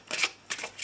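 A deck of cards shuffled and cut for a daily tarot reading: brief riffling flutters in three quick bursts, close and clear, with no voice.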